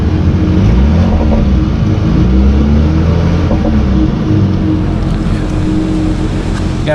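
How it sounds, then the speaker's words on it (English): Car engine fitted with a new 80mm throttle body, upper and lower manifold and coil packs, running loud and close with a rough, uneven idle and some surging, steady throughout with no talk. "Got a lot of popping going on."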